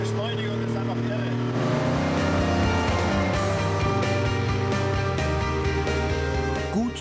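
A Mercedes 300 SL Roadster's engine runs loud and close, its steady drone swelling as the car accelerates, with a voice talking over it throughout.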